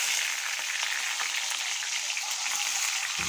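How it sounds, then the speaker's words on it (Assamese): Onions hitting hot mustard oil in a wok for a home-style pork dish give a steady, close hiss of frying that holds without a break and with no voices over it. "তেলখিনি গৰম হোৱা দি দিলোঁ পিঁয়াজ।"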